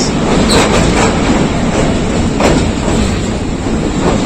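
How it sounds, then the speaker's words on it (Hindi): The 106 Down Rawal Express pulls into Lahore Junction, a loud, steady rumble of wheels and carriages with brief bursts of hissing or squeal, continuous throughout. "तकरीबन 50 मिनट की ताख़ीर से लाहौर जंक्शन पहुंच रही है 106 डाउन रावल एक्सप्रेस"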